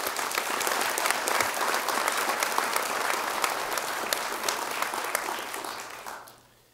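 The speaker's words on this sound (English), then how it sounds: "Please give a big round of applause for Zach Crater." Steady applause from an audience at a high school sports awards ceremony, dense and continuous for several seconds before fading out at the end.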